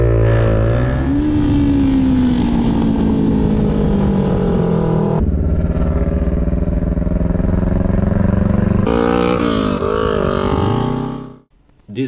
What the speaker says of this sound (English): This made the biker really upset as he revved his engine.